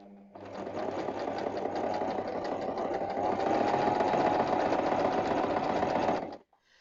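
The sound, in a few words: sewing machine stitching quilt blocks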